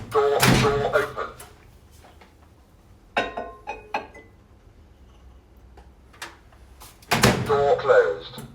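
A microwave door being shut in a kitchen, a few sharp clicks and clunks spaced apart, close and loud, with someone talking between them.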